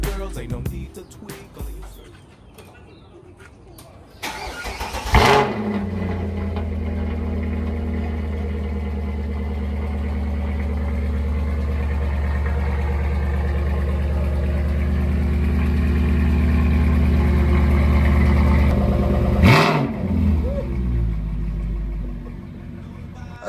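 A car engine cold-starts with a sharp crank and catch, then settles into a steady, loud idle rumble that rises slightly over time before cutting off abruptly near the end.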